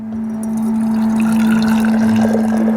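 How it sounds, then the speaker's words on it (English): Tea pours steadily from a teapot into a teacup, a continuous close liquid stream over a steady background hum, with no talking. "with this you're now able to pour it into your teacup"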